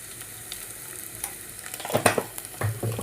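Chili powder and salt are stirred into a pan, a quiet sizzle broken by a few louder scraping stirs toward the end, close by and without talk.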